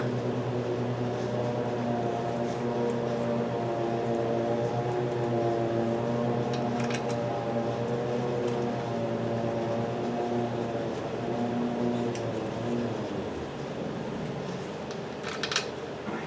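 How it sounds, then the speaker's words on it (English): A neighbor's lawn mower drones steadily at a distance, moderately loud throughout, then fades near the end, with a few faint clicks nearby. "He starts that mower up, runs it for just a couple 3 minutes, shuts it off"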